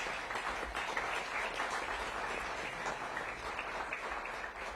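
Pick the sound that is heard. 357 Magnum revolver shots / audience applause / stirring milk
audience applause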